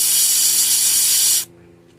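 Airbrush spraying paint onto a fishing lure in a pink belly perch pattern, a steady close hiss that cuts off abruptly, leaving faint room noise.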